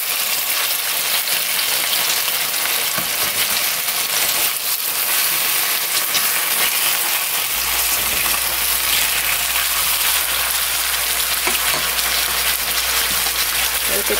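Salted yellow croaker pan-frying under a lid after being turned, giving a loud, constant close-up sizzle and crackle with a low steady hum joining partway through.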